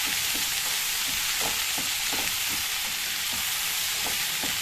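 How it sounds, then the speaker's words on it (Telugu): Tomato pieces frying in a pan for chicken donne biryani, a steady loud sizzle with soft repeated stirring scrapes and taps, no talk. "2 టమోటా ముక్కలు వేసి ఇలా ఫ్రై చేసుకోవాలి"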